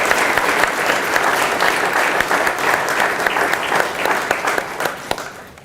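Sustained audience applause at a community partnerships breakfast, dense steady clapping from a large room that continues throughout before tapering slightly at the end.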